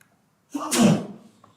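Single sneeze in a city council meeting room, a short burst with a sharp breathy spray, heard from a moderate distance before quiet returns.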